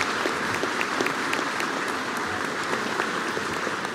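Sustained applause from a graduation ceremony audience thanking the organizers, a dense, steady wash of clapping that fills the hall evenly for the whole stretch with no pauses.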